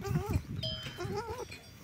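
A goat bleats twice in a short wavering call, close by on a livestock farm during mating season, with a faint cowbell-like clink and farmyard background.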